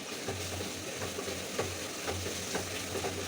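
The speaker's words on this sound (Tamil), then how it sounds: "இப்போ இது நல்லா வதங்கி வரும் அந்த தக்காளி சீமலே மூடி போட்டு வதங்கட்டும்" Tomatoes sautéing in a pan during home Sunday cooking, a steady soft sizzle with a low hum and faint stirring scrapes, continuous and fairly quiet with no voices.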